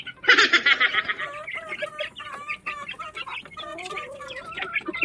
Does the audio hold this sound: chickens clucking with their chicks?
yes